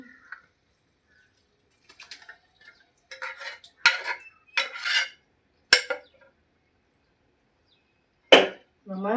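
Mashed garlic being stirred into a boiling pot of thick postpartum herbal medicine, with sparse scraping knocks and clinks of a utensil against the pot separated by quiet gaps.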